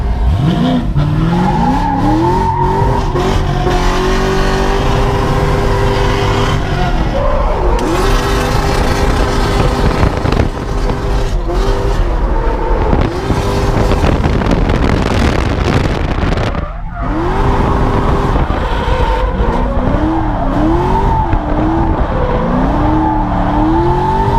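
Race car lapping a track at the Freedom Factory, engine loud and continuous with rising and falling revs through shifts and corners, tires squealing and skidding as it slides, recorded up close from inside.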